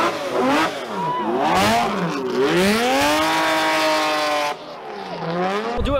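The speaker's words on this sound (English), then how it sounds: "we're taking off now with the GTR" Nissan GT-R pulling away from a car meet, its engine revving loudly through rising and falling gear sweeps with a deep, strained exhaust roar close by, easing briefly near the end before climbing again.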